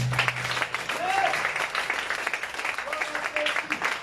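A church congregation claps and cheers together in praise, a dense steady wash of applause with voices mixed in, sustained throughout at moderate distance.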